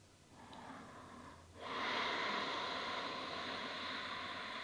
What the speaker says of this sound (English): you might even start to constrict the back of the throat, finding Ujjayi pranayama